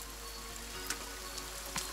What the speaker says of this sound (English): Wow, it's really raining hard.